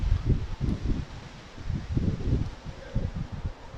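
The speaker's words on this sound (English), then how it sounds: "The wind is blowing all the petals down." Wind gusting through blossoming trees on a spring walk, a low steady rustle and rumble swelling and easing in soft waves, with some buffeting against the microphone.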